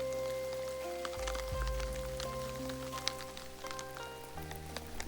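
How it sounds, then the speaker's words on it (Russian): Cold, steady spring rain falls in a forest, pattering on surfaces nearby with scattered drops over a continuous wash, and low tonal hums sit beneath it; no one speaks. "Весенний дождь. Такой холодный, затяжной и, если честно, ожидаемый."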